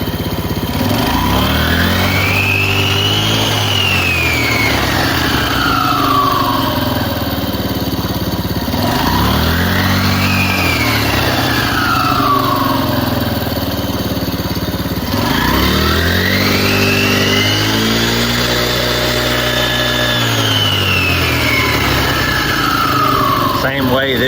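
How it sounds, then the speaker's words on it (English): A Yamaha YFZ 50 quad engine revs up and down three times with the throttle, each rise and fall sweeping smoothly, loud and close, with a voice talking over it. "whenever I give it throttle, this back plate will drive out and pinch that belt"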